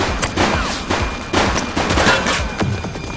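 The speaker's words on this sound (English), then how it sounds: "He's shooting!" Rapid, dense gunfire fills a police shootout in the video game The Precinct, with overlapping bursts and sharp reports pounding close and loud for the whole stretch.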